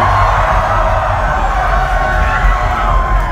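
Concert crowd at Warped Tour 2016 cheering and shouting between songs of a band's set, a dense, loud, steady roar of many voices with scattered whoops throughout.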